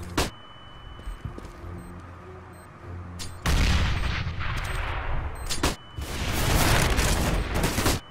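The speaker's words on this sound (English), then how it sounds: "Throwing flashbang." Counter-Strike: Global Offensive gameplay with a thrown flashbang grenade: a sharp crack, then loud, sustained bursts of blast and gunfire noise with a short break between them, very close and loud.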